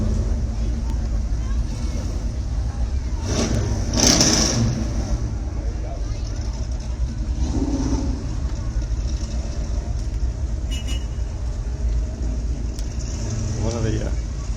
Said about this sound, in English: One of the old-time early Ford trucks.